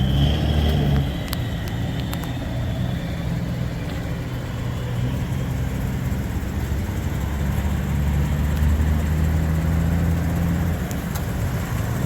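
A lifted truck with a Maxtrac 7-inch lift on 28-inch KG1 wheels rumbles as it pulls away, a steady low engine drone with a faint whine, close and continuous, no talking.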